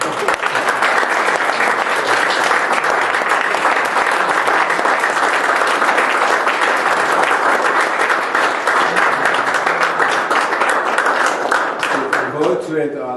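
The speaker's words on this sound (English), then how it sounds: "Please give them a round of applause" Sustained, dense applause from a large audience at a portrait dedication ceremony, steady and loud for the whole stretch, with a few voices faintly mixed in near the end.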